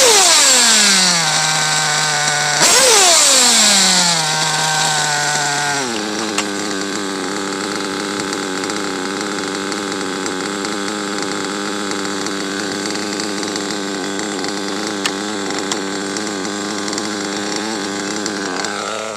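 A small two-stroke engine, tuned for a correct idle, revs high twice and falls back each time, then settles into a steady, fairly loud idle that runs on alone without talk.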